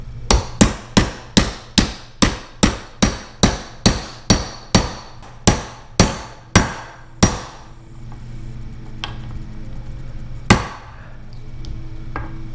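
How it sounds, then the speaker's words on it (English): A socket is hammered against a seal to seat it in a Johnson Evinrude 18, 20 or 25 hp outboard lower unit: about fifteen sharp, evenly spaced metallic taps close by, then a pause and one more strike. "begin to tap it down in there using a socket"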